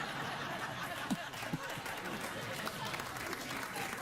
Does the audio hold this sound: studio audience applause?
yes